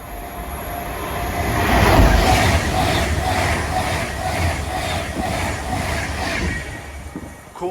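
London Euston to Manchester Piccadilly train rolling loudly through a station, a steady rumble with rhythmic wheel clatter that swells and stays close for several seconds.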